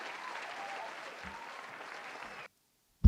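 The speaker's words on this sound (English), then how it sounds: "I'm going to do a round of applause." A round of applause plays at moderate level and stays fairly even, then cuts off abruptly into silence before a short low thump.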